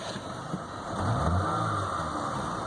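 A 2010 Chevy Malibu with a 2.4 engine that still has a misfire runs close by, a steady engine note that swells slightly partway through and holds, alone with no voices.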